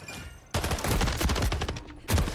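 First-person shooter video game gunfire crackles in dense, rapid volleys, loud and nearly continuous, with a fresh burst of shots at the end.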